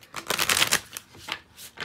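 Tarot and spell-casting oracle cards being shuffled by hand, a papery riffle that comes in several quick bursts, loudest early on and then in shorter flurries, close and clear with no talking.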